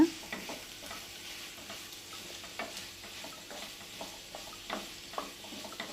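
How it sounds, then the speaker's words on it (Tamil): Prawns frying in a pan for a masala fry, sizzling quietly while a spoon stirs them in repeated scraping strokes and taps, close by and with no one talking. "இறாலை சேர்த்தாச்சு. இப்போ நல்லா கிளறி விடுங்க."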